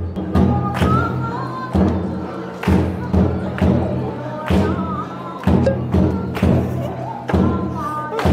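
Wooden yumomi boards stir scalding hot spring water at a Kusatsu Onsen hotel show, loud rhythmic thumps and splashes repeating roughly every second, with crowd noise and a chanted folk song underneath.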